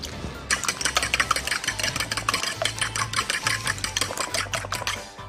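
Eggs being whisked into a creamy mixture in a bowl, the whisk clattering rapidly and steadily against the sides in quick repeated strokes, close and fairly loud with no talking.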